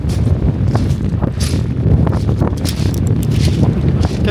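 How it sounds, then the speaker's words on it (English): Wind buffets the microphone on a January morning walk through seaside Bognor Regis, a loud, continuous rumbling roar with gusty swells and no voices. "as you can hear, it's a bit windy."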